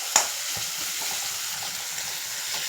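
Egg fried rice masala sizzles in a frying pan while being stirred, a soft steady hiss of frying with a sharp spoon scrape at the start and light taps throughout.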